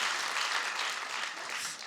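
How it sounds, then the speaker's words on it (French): Studio audience applause on a French-language talk show, a dense, even burst of many hands clapping that is loud and fills the space before easing slightly at the end. "Bravo, applaudissez-vous."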